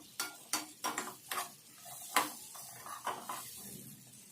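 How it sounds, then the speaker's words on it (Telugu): A spoon stirs peanuts coated with chili powder in hot oil, giving about a dozen sharp, close scraping and clinking strokes in an uneven rhythm, with light sizzle between them. "నూనెలో పల్లీలకు కారం పట్టేటట్టు కలపాలి."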